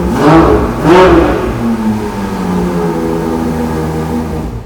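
A powerful Ferrari front-engine V12 revs hard twice in quick succession, then settles into a deep, steady idle, loud and close.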